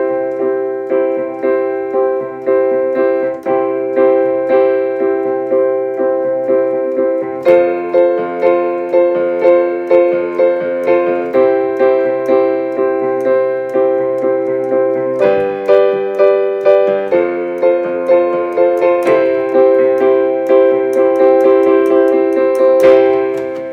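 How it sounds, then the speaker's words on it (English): A solo piano plays a 12-bar blues with a swung, jazzy rhythm, bright repeated chords in a steady groove that shifts through the chord changes, loud and close with no talking. "that's how you can play the 12-bar blues on the piano"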